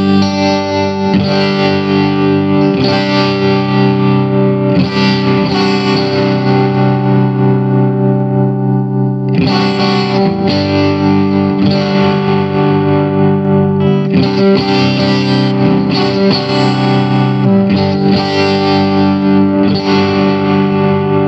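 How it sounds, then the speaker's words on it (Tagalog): Electric guitar played through a preset on a multi-effects pedal chain, loud and continuous with heavy distortion and chorus-like shimmer, sustained chords with a brief pause near the middle, no talking. "check natin yung tunog ng pedal chain na yan."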